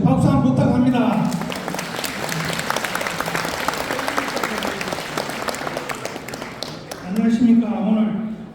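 Audience applause at a Korean humanities lecture opening ceremony, a steady wash of clapping from a seated crowd lasting several seconds, with a voice heard at the start and end.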